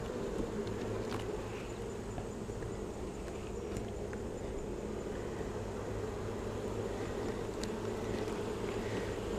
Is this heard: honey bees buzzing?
yes